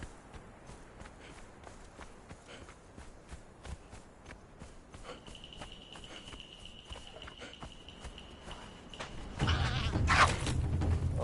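Horse hooves in Conan Exiles clop in a steady, rhythmic walking beat, with a thin tonal whine in the middle and a louder rustling burst near the end.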